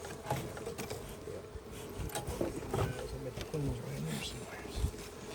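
Honey bees swarming around a hive lodged in a 1950 Chevy pickup on a warm day, a steady close buzzing drone under occasional human sounds and a few bird coos.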